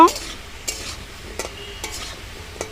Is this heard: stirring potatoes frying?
yes